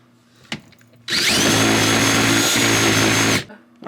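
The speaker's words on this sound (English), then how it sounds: "Alright, so we got our hole kind of drilled here" A power drill runs steadily for about two seconds, boring a hole for coaxial cable, loud and close with a constant whining drone, preceded by a faint click.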